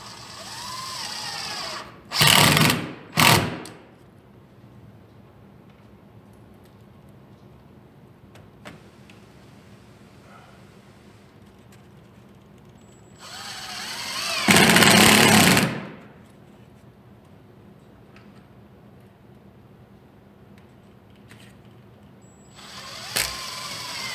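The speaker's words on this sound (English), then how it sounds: "So I'll screw it in place" Cordless power drill driving screws into vinyl J channel trim around a window or door: two short bursts of whirring, a longer sustained run, then a final brief burst, close and loud, with quiet pauses between.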